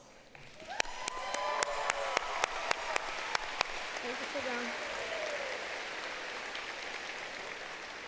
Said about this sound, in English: So graduates, will you please stand and give them a round of applause?